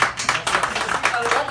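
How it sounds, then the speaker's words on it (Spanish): Applause from an audience welcoming guests onto a show, a short burst of hand clapping with voices mixed in, fairly close and steady for a moment. "Los recibimos con un fuerte aplauso"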